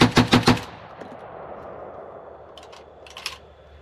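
A KUSA KS-12 AK-style shotgun fires at an outdoor range: three loud, rapid blasts open the clip and trail into a fading rumble, then faint metallic clicks and handling noises follow.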